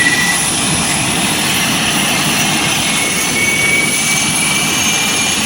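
Turboprop engine of a Lockheed Hercules L100 cargo plane spooling up at ignition, a loud, steady whine and roar with a high tonal hum that rises slowly in pitch, heard from the cockpit without talk.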